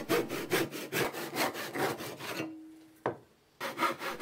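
A handsaw rasps through wood in quick, rhythmic back-and-forth strokes, pausing briefly with a small knock before the sawing resumes, close up.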